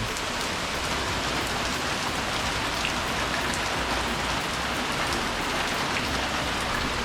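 Heavy rain pours down steadily, a dense hiss of drops pattering on surfaces close by, with no voices.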